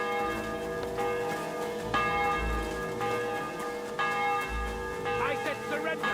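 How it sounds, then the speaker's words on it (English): A church bell rings in the medieval video game Kingdom Come: Deliverance II, with strong, resonant strikes roughly every second or two whose long ringing tails overlap, loud and close, with some background game sound. "The bell's ringing for Hans the fifth time."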